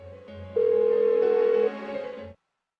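A phone in Persona 4 Golden rings on and on with no answer: a steady electronic tone with a brighter sustained beep in the middle, cutting off abruptly after a couple of seconds, nobody talking.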